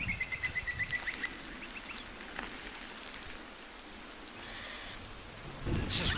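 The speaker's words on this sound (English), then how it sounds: "It's just raining down." Steady rain falls on a foggy mountain hiking trail in Victoria's Mount Cole area, a continuous soft hiss with heavier patter at the start and a brief louder rustle near the end, with no talking.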